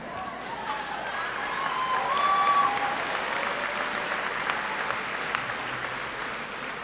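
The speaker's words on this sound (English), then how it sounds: "Do not hold your applause to the end." Steady applause from an audience at a law school commencement as graduates are hooded, sustained clapping filling the hall for the full stretch with a voice faintly speaking over it.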